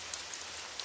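Rain falling steadily in a storm, an even, continuous hiss with faint scattered drop ticks throughout, with no voices.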